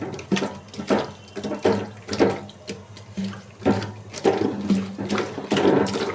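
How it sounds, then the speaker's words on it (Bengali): Running tap water splashing over small pabda fish being scrubbed with salt in a bowl, steady close pouring with repeated sloshing bursts as the fish are rubbed and rinsed. "লবণ দিয়ে মাছগুলো ধুয়ে নিতেছি"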